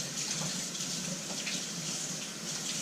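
Garlic is rinsed under a running tap, a steady, close wash of flowing water splashing continuously with no talk.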